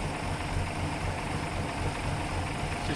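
1933 Hudson Terraplane engine idling very slowly at around 400 RPM, a steady low rumbling drone that continues evenly throughout, close by.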